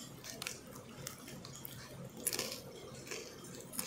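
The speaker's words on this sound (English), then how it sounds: "Nice crunch. I don't know if you hear that." Chili-flavoured Mexsnax corn churritos from Gonzalez Food Products crunch between the teeth close to the mic, with several crisp bites and chewing crackles over a soft background hiss.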